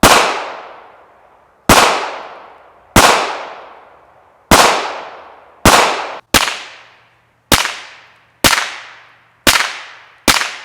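A pistol fitted with a titanium WhisperStrike Slim 9 suppressor fires about nine sharp, loud shots at irregular intervals, each one cracking and then ringing out with a quick decay.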